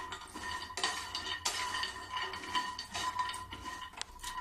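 Almonds and walnuts dry-roasting in a pan over a low gas flame, heard as a steady stream of light rattling and clinking as the nuts are moved about, close and fairly quiet.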